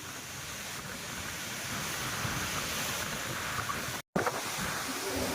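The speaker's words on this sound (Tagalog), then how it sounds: "Grabe, namumuti ang alon dito ngayon." Waves break on a rocky shore at Bolinao in a steady roar of surf, with wind rumbling against the microphone and a brief dropout near the end.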